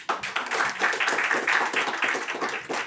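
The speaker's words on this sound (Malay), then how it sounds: "tepukan paling gemuruh untuk diri sendiri" Applause from the audience at a Malaysian corporate weekly meeting session with a CEO, a dense, steady patter of clapping that swells and holds for a few seconds.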